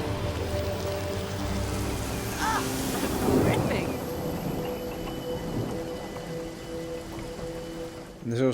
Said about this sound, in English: We could bring the rain down on this area.